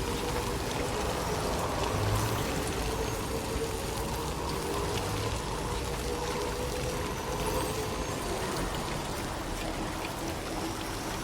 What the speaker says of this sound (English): It's raining so fucking hard.